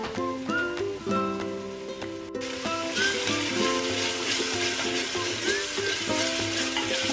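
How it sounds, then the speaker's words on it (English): Onions sizzle and fry in a pan, a steady crackling hiss beneath music throughout. "let's continue frying the onions"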